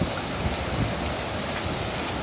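Fast-flowing water at the Ngon Sam (Flying Phoenix) stream, on a day with rain, rushes nearby in a loud, constant, even roar with no voices.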